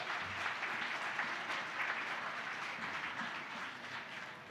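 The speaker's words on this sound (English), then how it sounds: "I want to please give a big round of applause for Oric," An audience at a community crowdfunding event applauds its corporate sponsor, producing sustained, fairly distant clapping that holds evenly for several seconds.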